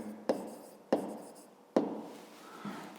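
A pen writes on paper during a fifth-grade math exercise, three distinct scratchy strokes spaced about a second apart, each followed by brief rubbing, quiet and close with no talk.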